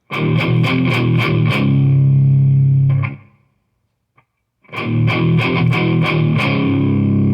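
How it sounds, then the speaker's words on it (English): A second distorted electric guitar in drop D chugs heavy, thick, chunky riffs with rhythmic picked attacks, rings out and goes silent, then resumes the riff loud and close. "there's a second guitar recorded, layered on top of it, just going"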